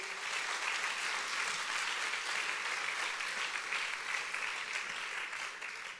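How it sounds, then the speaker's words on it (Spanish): A church congregation claps in praise during a Spanish-language sermon, a sustained, even wash of many hands that holds steady for several seconds before easing slightly at the end. "Dale un fuerte aplauso al Rey de Gloria"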